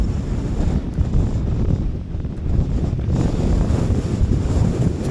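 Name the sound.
strong wind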